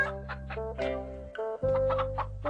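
A hen clucking in a Hindi-dubbed Ninja Hattori cartoon episode, a run of loud, close, repeated clucks and squawks over a steady background music drone.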